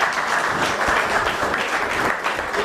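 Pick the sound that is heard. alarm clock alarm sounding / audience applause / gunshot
audience applause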